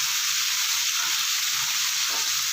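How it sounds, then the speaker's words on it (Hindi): Chicken sizzling steadily in a hot pan for a shawarma paratha roll, a continuous close hiss of frying oil with faint stirring and no talk. "फ्राई कर लेना है साइड चेंज कर करके"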